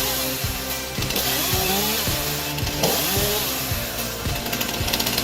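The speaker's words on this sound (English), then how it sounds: "this device combines a standard chainsaw with a stabilizing system and an automatic throttle mechanism" A chainsaw on a tree-cutting machine with a stabilizing system and automatic throttle roars continuously up close, its engine pitch rising and falling as it bites through a tree.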